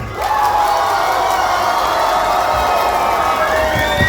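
An audience at the Brasiervil 2024 event votes by applause, a loud sustained wall of crowd cheering with whoops and shouts rising over steady clapping for about four seconds.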